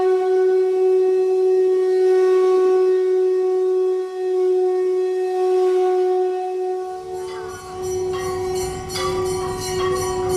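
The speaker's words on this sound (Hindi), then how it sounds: "मंदिरों में शंखनाद होने" A conch shell is blown at evening in a temple in Jaipur, a long, loud, steady horn-like tone held for several seconds, with ringing bells and clatter joining near the end.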